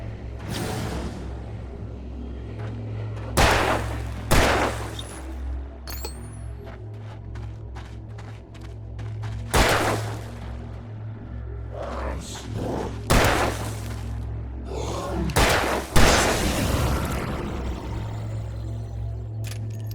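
Gunfire in Alan Wake Remastered, with several loud, sharp shots at irregular intervals over a steady low game ambience, some in quick pairs, with whooshing effects between them.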